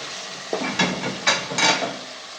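Ginger garlic paste and onion fry in a pan for a Lahori chicken cholay breakfast dish, with a few short stirring scrapes over a soft background sizzle.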